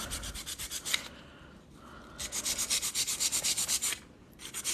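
Hard gel stiletto nails being filed, rapid rhythmic rasping strokes in close bursts separated by short pauses, with no talking.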